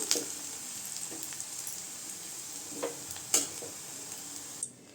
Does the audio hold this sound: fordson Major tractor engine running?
no